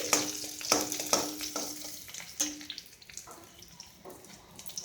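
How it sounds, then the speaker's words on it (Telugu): Garlic fries in a pan with a soft, steady sizzle, punctuated by sharp clinks and scrapes of a spoon stirring. The sizzle stays close and moderate, with no one speaking. "వెల్లుల్లి దోరగా వేయించుకోవాలండి."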